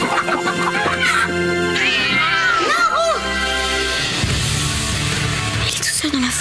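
A cat meows repeatedly in a French film excerpt, rising and falling cries alongside a voice, with other sounds and music in the background.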